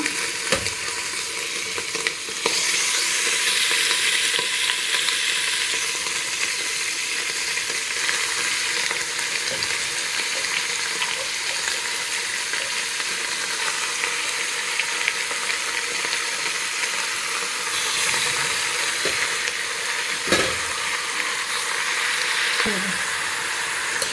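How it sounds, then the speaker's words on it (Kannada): Country chicken sizzles and fries in a pressure cooker, a loud, steady close-up hiss running throughout with occasional scraping stirs of a spoon against the pot. "ಈ ಚಿಕನ್ ಎಲ್ಲ ನೀರು ಬಿಟ್ಟು ಅದು ಫ್ರೈ ಆಗೋ ತನಕ"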